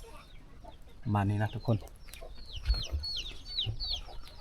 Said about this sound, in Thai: ตัวนี้ก็จะเป็นบ่อนเพิ่นเลี้ยงไก่เด้อ